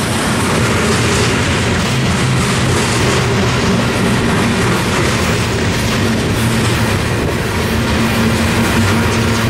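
Canadian Pacific locomotive 7012 hauls a train past at Tehachapi, a loud, steady rumble of engines and rolling wagons that fills the scene without pause.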